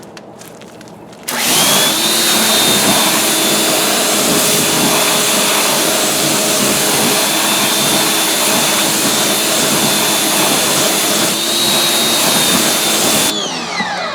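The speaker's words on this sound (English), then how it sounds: "I've got air in my power washer" A pressure washer spraying water to rinse a car wheel, starting abruptly and running as a loud, steady whine and hiss close by with no talking.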